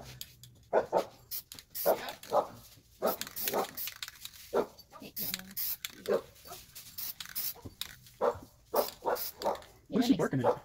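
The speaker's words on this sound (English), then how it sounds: "What is she barking at?" A dog barks repeatedly in short, sharp bursts, fairly close, with an irregular rhythm and brief pauses between volleys.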